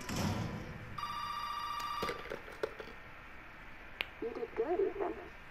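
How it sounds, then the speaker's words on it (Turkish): A telephone in the Resident Evil 7 video game gives a loud electronic ring of repeated bursts, with thuds and clicks around it and some game voice near the end. "Bu kadar güçlü telefon mu çalar?"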